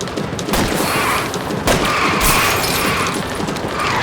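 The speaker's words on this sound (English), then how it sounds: "I'll try to shoot out his tires." Rapid gunfire in LA Noire as shots are aimed at a fleeing car's tires, a loud dense volley of bursts running steadily throughout with crashing impacts mixed in.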